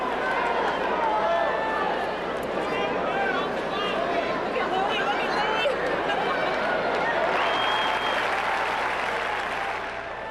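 Large basketball-game crowd of about 17,000 men, women and children in an arena, a dense, steady roar of cheering and applause with scattered whistles and shouts, loud and continuous throughout.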